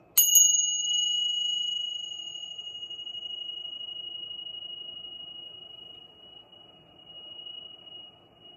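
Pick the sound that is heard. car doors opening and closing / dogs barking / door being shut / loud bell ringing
loud bell ringing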